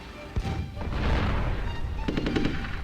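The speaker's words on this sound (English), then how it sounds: "Now there's the bombers hitting the city, targeting the main city." Bombers strike a city in the WWII real-time strategy game Rise of Nations, giving a close burst of booming impacts and rapid crackling blasts that rise and fall over a low rumble.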